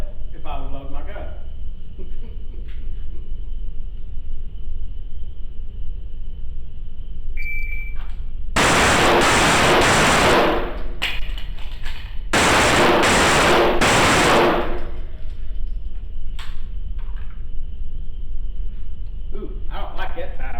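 An STI Tactical 5.0 9mm pistol fires two rapid strings of loud, close shots, each lasting about two seconds, with a pause between them and someone talking before and after.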